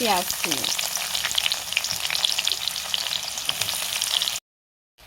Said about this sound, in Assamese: শুকান জলকীয়া কেইটা, লগত দি দিছোঁ ডালচেনি ইলাচি, এইকেইটা তেলৰ পাকতে দি দিছোঁ